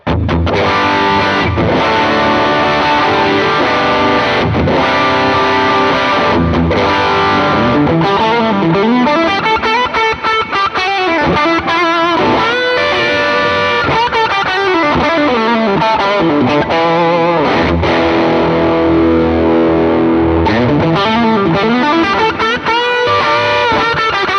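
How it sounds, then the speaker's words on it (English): Electric guitar played through an Ibanez TS808 overdrive pedal with the overdrive engaged, a continuous stream of gritty, saturated chords and riffs, loud and up close without pause. "So let's engage the overdrive knob right now."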